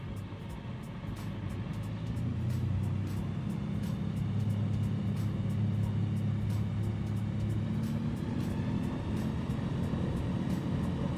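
A light bush plane in a flying game with flaps fully down, engine cranking up into a steady droning rumble that stays loud and constant for the rest of the stretch, with no talking.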